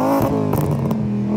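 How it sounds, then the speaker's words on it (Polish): A VR5 car engine revs up close and loud, its throaty, buzzing note rising and falling briefly before settling back to a steady idle hum. "dźwięk tego silnika najbardziej przypomina rzędową piątkę"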